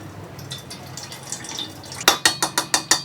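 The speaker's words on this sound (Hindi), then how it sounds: "देखिए मट्ठा है इसमें, जिसको छान देती हूँ।" Homemade butter is strained to drain off the buttermilk, giving soft watery drips and splashes followed by a rapid series of six clinking, sloshing pulses against a vessel.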